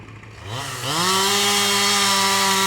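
A chainsaw revs up during a timber harvest logging job, its engine climbing in pitch over the first second and then holding a loud, steady high whine close by.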